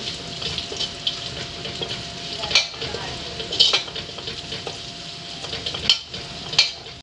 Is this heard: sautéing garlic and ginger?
yes